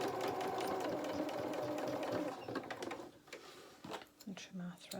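A sewing machine stitches the seam of a fabric otter toy, a steady close whirring run for about two seconds before it stops, followed by softer handling clicks and a person talking.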